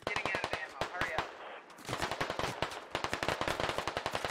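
Sustained suppressing machine gun fire in the Squad video game, rapid loud bursts of closely spaced shots with a brief pause midway before the firing resumes, close and sharp.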